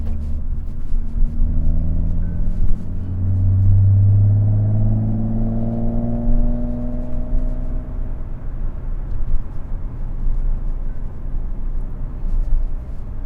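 A Nissan 370Z NISMO with an aftermarket Fast Intentions exhaust rumbles and revs up, its deep exhaust note rising in pitch then settling back to a loud steady drone.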